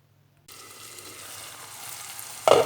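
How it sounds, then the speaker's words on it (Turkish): Onions begin sizzling in hot oil in a pot after a brief silence, a steady crackling fry with a louder burst near the end. "Soğanlarımız kavruluyor."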